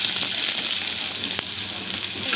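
Chopped onions sizzle steadily in hot oil in a pan as filling for egg puffs, a loud, dense, continuous frying hiss with one brief sharp crackle and no talking.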